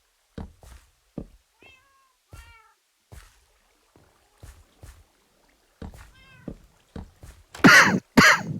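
A cat in Minecraft meows several times in short, clear calls, spaced between soft knocking game sounds, ending in a louder burst of activity.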